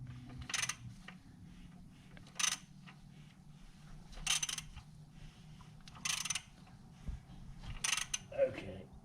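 A 6.0 LQ4 V8 engine is turned over by hand through a full revolution during a heads and cam install, giving quiet mechanical clicking and ratcheting bursts that repeat roughly every two seconds over a low background.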